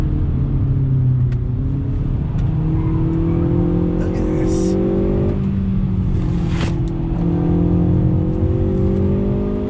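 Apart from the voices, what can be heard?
2020 Hyundai Veloster Turbo driven hard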